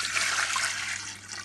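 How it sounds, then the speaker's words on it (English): Water pours onto beef in a pot for tomato beef stew, a soft continuous splashing trickle heard close up and alone. "Now we're going to season the meat and to pour some water."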